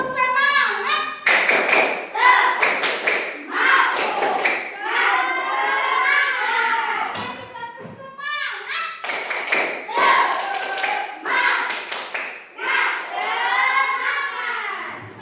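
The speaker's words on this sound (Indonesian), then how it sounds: "1, 2, 3, tepuk semangat." A school class does rhythmic spirit clapping (tepuk semangat): loud, close bursts of claps in set patterns while the children chant along, with pauses between the rounds.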